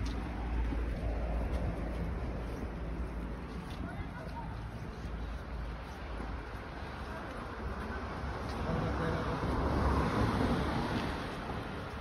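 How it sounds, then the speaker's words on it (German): Wind blowing outdoors from the front during a mantrailing walk in Brittany, a steady loud rushing roar buffeting the microphone, with a low surging that swells toward the end. "Und eigentlich haben wir Wind von vorne."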